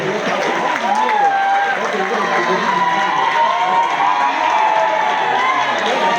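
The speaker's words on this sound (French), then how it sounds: "Est-ce qu'on peut les applaudir bien fort pour ce petit spectacle?" An audience applauds loudly after a small performance, a dense continuous wash of clapping and crowd noise with voices talking over it throughout.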